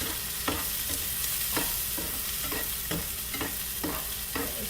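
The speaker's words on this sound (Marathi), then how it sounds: "कांदा टाकल्यावर मात्र तुम्ही छानपैकी त्याला सॉटे करून घ्या" Onion sautéing in a hot pan while being stirred, a continuous loud sizzle broken by regular scraping strokes of the spatula, close up and without voices.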